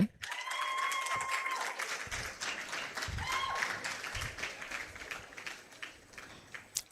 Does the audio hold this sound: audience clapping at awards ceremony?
yes